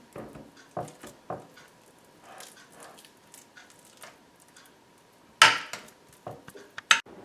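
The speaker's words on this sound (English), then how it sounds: "Spread your bean dip on the bottom of a 9x13 pan." Bean dip is spread across the bottom of a 9x13 pan with a utensil, giving scattered soft scrapes and taps and a couple of sharper clinks against the pan, close up in a quiet kitchen.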